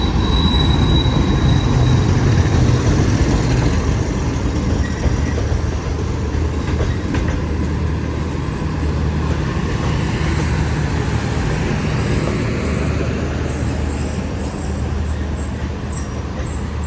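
A passenger train hauled by a GU40 locomotive rolls past at close range in Pakistan, a loud continuous rumble with wheel clatter and faint squeal that eases slightly toward the end.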